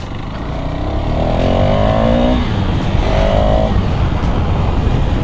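KTM Duke 390 motorcycle engine revving, a loud continuous roar with a rising whine as it pulls through the gears, steady and close without pause.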